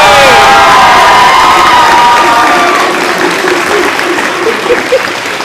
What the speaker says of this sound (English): Let's give one more round of applause for our PlayWorks 9A company